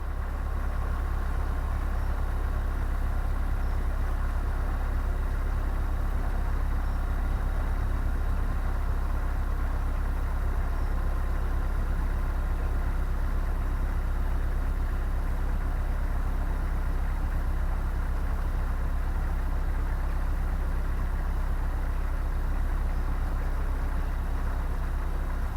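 A narrowboat's diesel engine runs steadily and loudly throughout, a constant low throbbing rumble with no breaks or voices, as the boat is steered hard over with the tiller.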